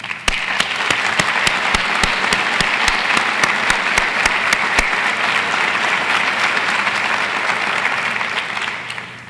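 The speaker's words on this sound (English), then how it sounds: "Those rankings and so many others all deserve a hearty round of applause from the Radford" A large audience applauds at Radford University's 2019 State of the University address: dense, sustained clapping fills the room, with sharp individual claps standing out early, and no voices on top.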